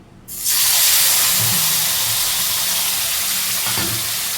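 Tomato sauce hitting hot tempered oil sets off a loud, sudden sizzle that holds as a steady hissing fry for several seconds, with faint stirring scrapes underneath.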